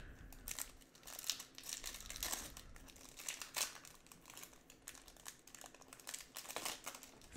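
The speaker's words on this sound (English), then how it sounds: "If I can get the packs open" Foil hobby packs of 2013 Topps football trading cards being torn open and handled, with close, steady crinkling and crackling bursts throughout and no talking.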